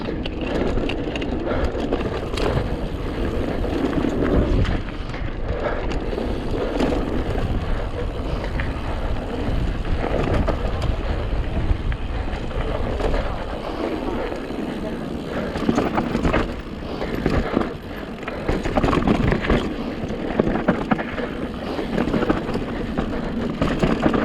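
Wind roars steadily against a mountain biker riding rocky natural trails in Scotland, mixed with tyre rumble and rattling over the ground. A rider speaks now and then over the noise.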